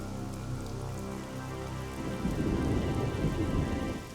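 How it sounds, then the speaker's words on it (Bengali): Rain suddenly begins to pour during a village storm: a quiet rumbling lull gives way midway to a dense, loud hiss of rain drumming on surfaces that continues to the end. "এই রে, মুখের কথা শেষ হতে না হতেই বৃষ্টি শুরু হয়ে গেল।"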